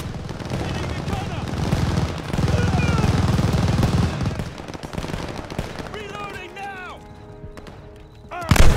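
Rapid machine gun fire in the Call of Duty: Vanguard campaign, a loud close burst of automatic shots mixed with battle noise and shouted voices, then thinning out before a final heavy thump.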